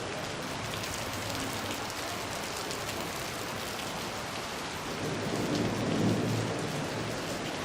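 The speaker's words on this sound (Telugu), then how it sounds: "హైదరాబాద్లో వర్షం అయితే బీభత్సంగా ప్రస్తుతం అయితే ఇక్కడ కురవడం జరుగుతుందన్నమాట" Heavy rain pours down continuously in Hyderabad, a dense steady roar that swells louder near the end, with a low rumble underneath.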